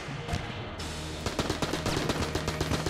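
AK assault rifle fire in the video game Enter the Gungeon crackles in quick, uneven bursts over a steady background hum of game sound, with no talking.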